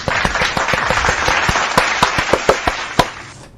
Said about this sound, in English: let's give a big round of applause to everyone in the chat